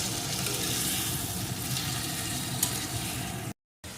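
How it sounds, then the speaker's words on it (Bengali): Tomatoes frying in a pan for a sweet-sour-spicy tomato pickle, giving a steady, fairly loud sizzle with faint stirring that runs continuously before cutting out briefly near the end. "এখন বেশ কিছুক্ষণ ধরে এইভাবে কিন্তু ভেজে নেব যতক্ষণ না টমেটোটা ভালো রকম গলে যায়"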